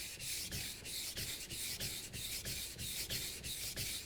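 A Global kitchen knife is drawn across a whetstone in quick, regular strokes, about three per second, each a close, gritty scraping rasp, with no voices.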